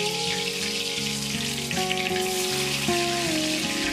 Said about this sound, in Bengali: তারপর আমি ওই গরম তেলের মধ্যে নুন হলুদ মাখানো আলুগুলোকে ছেড়ে দেব